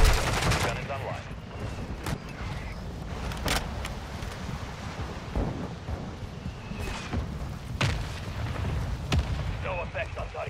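A gunship's heavy gun fires in a Modern Warfare 2 multiplayer match, with sharp, spaced blasts and rattling gunfire across the clip under game radio chatter and constant battle noise.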